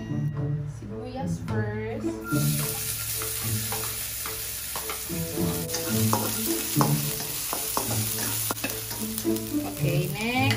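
Onions fry in cooking oil with a dense, continuous sizzle and stirring scrapes, set against a tonal, voice-like background layer throughout.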